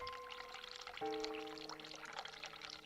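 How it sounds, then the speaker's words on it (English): A sink's cold water tap in The Cat Lady turns on, a quiet steady running-water stream with a soft click partway through as the flow begins. "Turn cold water on."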